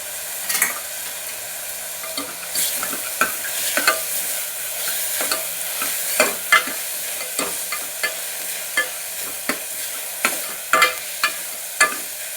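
Onion frying in a pan for a black pea curry, with a steady close sizzle under regular scraping and clinking of a spatula as it is stirred, with no talking.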